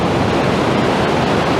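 Rushing water from a waterfall and stream in an Italian mountain valley, a loud, steady broadband roar filling the clip with no talking.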